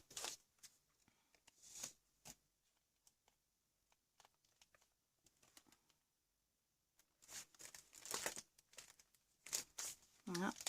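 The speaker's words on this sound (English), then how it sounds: "I'm just quickly and loosely semi-fuzzy cutting this word out." Scissors snip and crinkle through paper while a word is cut out for an art journal page, quiet intermittent cuts and rustles in clustered bursts separated by near-silent gaps.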